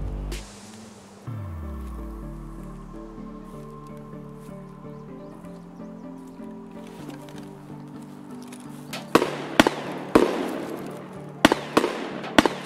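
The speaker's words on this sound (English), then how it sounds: "I get confirmation of another one through those gunshots" Gunshots in the Escape from Tarkov video game, a series of sharp, loud cracks clustered near the end after a quieter stretch of ambient game sound and low rumble.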